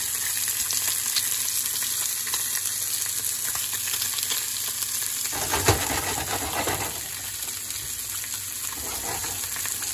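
Cream sauce sizzling in a pan over medium-high heat while cooking whiting fish, a steady close frying hiss with a brief clatter and stirring burst midway.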